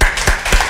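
Three sharp, evenly spaced claps ring out close and loud at the end of a forum talk, with a brief pause after each one.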